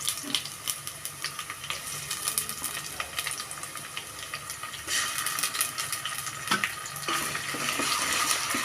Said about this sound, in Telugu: ఆనియన్స్ వేగుతున్నాయండి, ఉల్లిపాయలు వేగిపోయాయండి